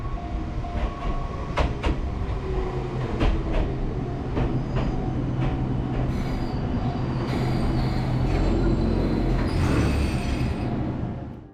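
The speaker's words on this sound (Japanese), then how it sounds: "約10分待って江ノ島駅行きの電車が来ましたので乗っていきます。" An electric train bound for Enoshima Station pulls in on the Enoden line near Kamakura, wheels squealing and rail joints clicking as it rolls close by and slows to a stop, loud and steady with no talk.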